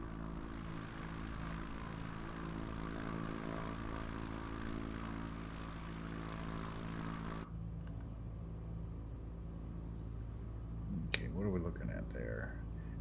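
An experimental light plane on a runway in Krakow, Poland, its propeller engine droning steadily and loud, the cabin noise dropping sharply partway through before a brief burst of radio chatter.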